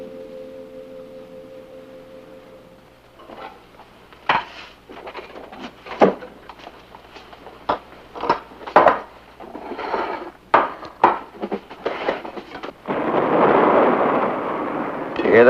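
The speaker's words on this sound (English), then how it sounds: "Did you hear that? It was thunder." A rolling series of sharp cracks and rumbles, like thunder, sounds during a sitcom scene. It starts after a soft tonal hum and builds to a broad roar near the end.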